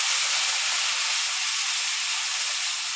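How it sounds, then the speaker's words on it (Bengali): Onion frying in a pan for a Bengali prawn malai curry, a steady bright sizzling hiss that stays even and continuous throughout, close and fairly loud, with no talk. "পেঁয়াজটাকে একটু ভেজে নেব।"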